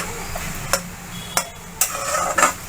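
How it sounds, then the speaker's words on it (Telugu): Snake gourd and chickpea flour stirred in a pan with a spoon, giving a few sharp scraping knocks spaced about half a second apart over a soft, steady sizzle-like hiss. "ఇలాగా శనగపిండితో పొట్లకాయ మొత్తం వేసి కలుపుకుంటూ ఉండాలి"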